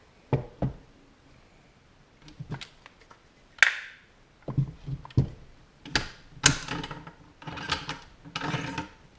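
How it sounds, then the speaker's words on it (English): A bolt is pulled out of a Ruger Precision Rifle, giving a series of close metallic knocks, clicks and slides, scattered and fairly quiet with short gaps, no talk. "Just going to completely remove the bolt, visually inspect the chamber."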